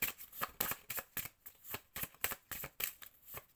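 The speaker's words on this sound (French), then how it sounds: "très difficile à mélanger ce jeu." A thin, flimsy deck of tarot cards is shuffled in quick riffling bursts, roughly a dozen crisp, papery flicks in a steady rhythm, close and fairly quiet with no talking.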